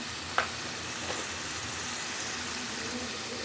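Ground spices (turmeric, dried coriander and garam masala) frying in oil for gobi matar, a steady soft sizzle that runs throughout, with one brief clink of a spoon near the start.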